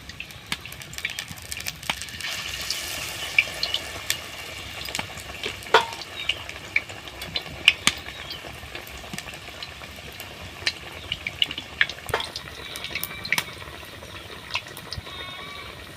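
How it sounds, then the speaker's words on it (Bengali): Potato chops frying in hot oil give a steady, fairly quiet crackling sizzle with scattered sharp pops, heard on their own for the whole stretch. "মৌ ওদিকে ভাজছে বন্ধুরা, আর আমি কিন্তু চপগুলো এক এক করে ছেড়ে দিচ্ছি"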